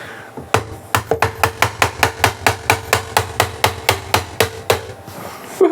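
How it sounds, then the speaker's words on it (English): A hammer drives knurled threaded inserts into a 3D-printed plastic part for a DIY electric outboard, about twenty sharp, evenly spaced strikes in a steady rhythm, close and loud, ending abruptly. "let's hammer that down."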